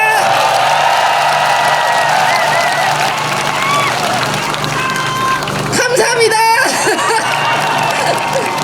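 Political rally crowd in Daejeon cheering loudly for a presidential campaign, a continuous roar of shouts and whoops, with a speaker's voice briefly cutting through before the noise swells again.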